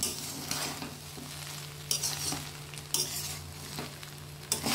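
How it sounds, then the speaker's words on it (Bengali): Vegetable fried rice being stirred in a pan makes a soft, continuous sizzle, with several sharper scrapes and knocks of the spoon at irregular intervals, heard close and fairly quiet. "এটা একটু ভালো নেড়ে নেব।"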